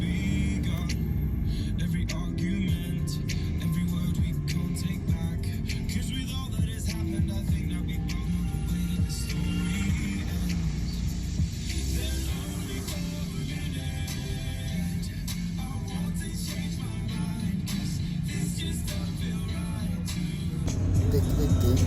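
A car cruises along a highway toward Srinagar in Kashmir with a constant close road and engine rumble throughout and voices talking over it.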